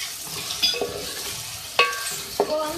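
Chicken frying with ginger garlic paste in a pan, a close, steady sizzle broken by several sharp scraping stir strokes of a spoon against the pan, with no voices.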